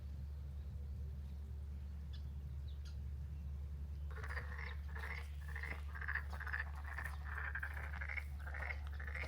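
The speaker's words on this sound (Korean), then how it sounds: "개구리들의 울음소리가 마치 잘 가요라며 인사하는 듯 들려옵니다." Frogs croak at a pond beside a pavilion in Damyang. After a few seconds of quiet, a chorus of repeated, rhythmic croaks starts up over a constant low hum and continues steadily.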